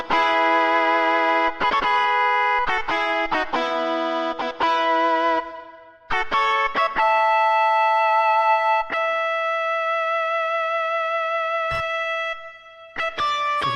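Mario Kart 64 music played on a Roland Sound Canvas overdrive guitar patch: loud, distorted sustained notes and chords, with brief choppy changes and a short gap midway before longer held tones.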